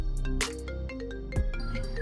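A mobile phone rings with an incoming call, a melodic tonal ringtone playing continuously and fairly loud over background music.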